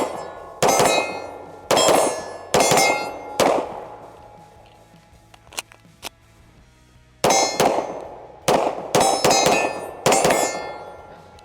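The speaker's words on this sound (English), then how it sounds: "I'm gonna run a few more rounds to this thing on steel" An Oracle Arms 2311 pistol fires rounds at steel targets: sharp gunshots, each followed by a ringing metallic clang, come in two quick strings of four or five shots with a quiet pause between.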